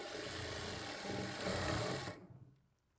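Close and continuous whirring of a sewing machine stitching the folded, shaped belt seam of a plain blouse. The run lasts a couple of seconds, then the motor winds down into quiet.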